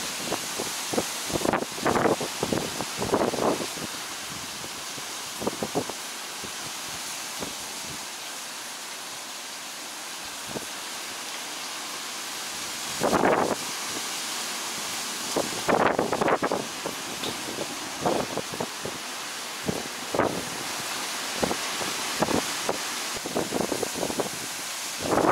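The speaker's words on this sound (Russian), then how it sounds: "Ветер усилился." Strong gusty typhoon wind at night in Japan roars and rushes in uneven bursts, swelling and fading repeatedly, with rustling and buffeting against the microphone.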